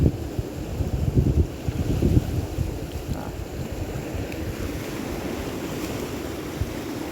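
Small ocean waves washing onto an overcast beach, a steady low rushing surf mixed with wind buffeting the microphone, louder in the first couple of seconds and then settling into a constant wash.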